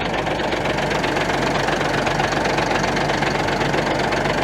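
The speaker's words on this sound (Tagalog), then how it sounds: "Yan po yung makina." The engine of a cargo truck able to haul about 500 sacks of palay runs at a steady idle, a close, loud, continuous rumble with a rapid knocking throb and no pauses.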